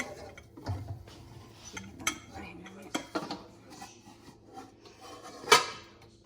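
A plate is handled and flipped over while stuffed eggs are being cooked, with a series of scattered ceramic clinks and knocks, one sharp clatter near the end, all close and fairly quiet.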